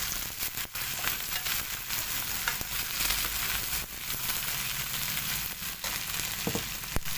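Okra (bhindi) fries with spices in a pan over medium-low flame, a steady close sizzle broken by scraping, clattering stirs of a spoon, without talk.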